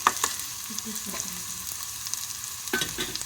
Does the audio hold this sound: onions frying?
yes